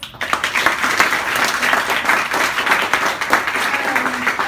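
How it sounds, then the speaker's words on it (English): An audience at a GovHack 2017 Melbourne show-and-tell event bursts into sustained, dense applause that fills the room at steady volume for several seconds, with some voices mixed in. "Big round of applause"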